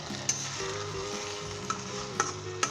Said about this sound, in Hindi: हाई फ्लेम के ऊपर स्टर फ्राई किया है।